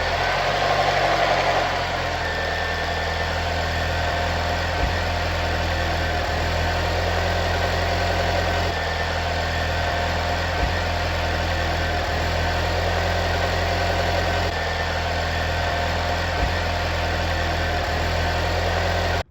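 A 2024 Jeep Compass 2.0 turbo engine idles steadily after an oil change, a constant low hum and drone with no talking.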